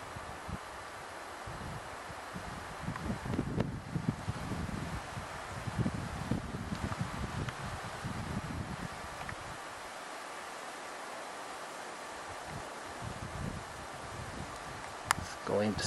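Wind sweeping across a Montana timber sale field overgrown with untreated thistle going to seed, a steady rustling hiss with gusty buffeting on the microphone while someone speaks over it.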